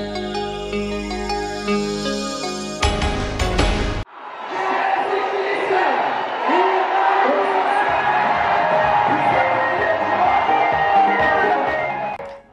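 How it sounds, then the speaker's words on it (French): A huge crowd cheers and roars at a religious celebration, a sustained wash of loud voices and whoops after a brief stretch of music. "Une foule immense pour un grand jour"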